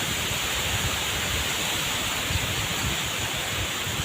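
Strong wind roars steadily against the microphone, a dense, unbroken rushing noise with low buffeting and no speech.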